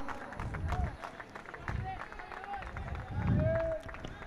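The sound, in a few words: crowd clapping at cricket match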